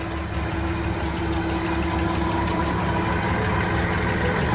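A 1948 Chevy heavy-duty pickup truck engine idling steadily while the truck backs out, close and even with a low rhythmic throb and faint mechanical knock throughout, no talking.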